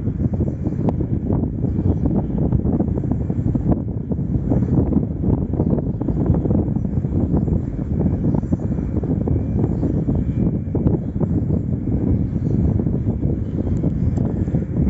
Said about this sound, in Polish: Bardziej słyszę właśnie tą przekładnię, która pracuje w tym wiatraku.